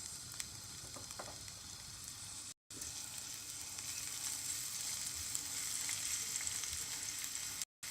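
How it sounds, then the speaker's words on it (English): Garlic frying in hot olive oil in a pan gives a soft, steady sizzle that runs throughout with a faint crackle, apart from two brief gaps of silence. "We're going to add in our garlic and let that fry a little."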